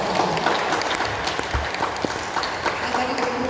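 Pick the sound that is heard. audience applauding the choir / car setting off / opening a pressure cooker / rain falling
audience applauding the choir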